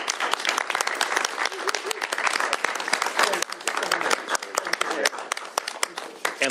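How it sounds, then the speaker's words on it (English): A crowd at a governor's bill signing claps for the legislation's sponsors, the applause close and uneven with sharp individual claps, while voices talk underneath. "give a round of applause to the sponsors of this legislation for their hard work"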